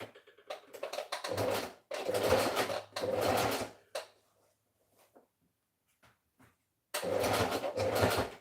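Sewing machine stitching fabric, several short loud bursts of rapid whirring stitches separated by pauses, with faint handling clicks in the quiet gaps.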